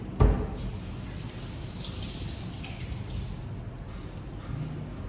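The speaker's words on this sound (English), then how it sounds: "Now I need to wash my hands." Tap water runs steadily into a sink in a home kitchen while hands are washed, a soft continuous splashing after a brief knock at the start, fairly quiet and close.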